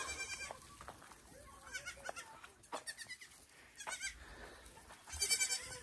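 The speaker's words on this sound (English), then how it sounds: "The goats are so much fun." Goats bleat repeatedly in a farm pen, several wavering calls scattered across the stretch, fairly close and loud, with some low background movement and no talking.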